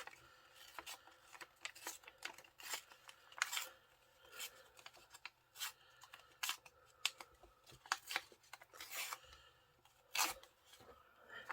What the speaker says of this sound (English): I really don't really want to cut too much of this off.